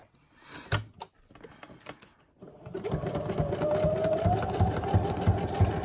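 A sewing machine stitches a tag pocket, starting with a few clicks and knocks, then settling into a steady close, rapid mechanical whir that runs to the end.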